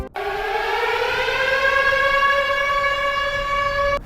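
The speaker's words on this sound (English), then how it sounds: "all of a sudden, a loud and sudden siren went off" A civil defense siren sounds during a drill in a Seoul apartment area: one loud, continuous wail that rises slightly in pitch and holds steady for about four seconds, cutting off abruptly.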